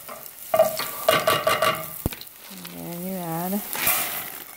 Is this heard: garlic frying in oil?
yes